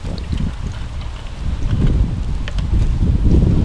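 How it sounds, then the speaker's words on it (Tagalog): Wind buffets the microphone in steady low rumbling gusts, growing slightly stronger partway through, with no talking. "medyo mahangin"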